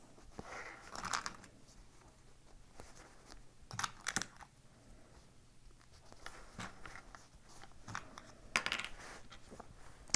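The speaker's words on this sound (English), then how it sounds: "So I'm just going to keep clipping all the way around." Sewing clips snap onto the edges of a quilted zipper pouch one after another, giving sharp, quiet clicks at irregular intervals over faint handling rustle.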